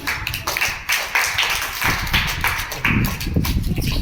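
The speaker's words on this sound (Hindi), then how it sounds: "वेरी फाइन, ताली बजा दो इसकी" A class of students claps for a classmate in a Hindi-medium mathematics lesson, a burst of loud, close, uneven clapping from many small hands with a rough rhythmic pulse.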